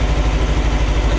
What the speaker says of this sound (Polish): Więc tutaj muszę ponad 1500 obrotów na silniku dawać.